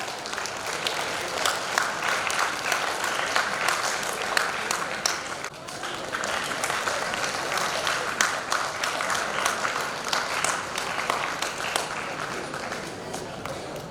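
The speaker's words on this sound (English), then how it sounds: "Give a round of applause." Prize winners at a college tech symposium receive a long round of applause from the audience, thick continuous clapping with a brief dip midway before building again.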